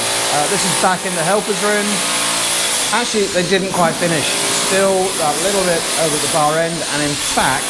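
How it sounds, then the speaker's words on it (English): Drilling at a house building site in the Philippines makes a steady mechanical whine in the background while someone talks over it throughout. "Some drilling out going on."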